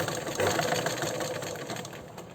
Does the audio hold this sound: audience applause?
no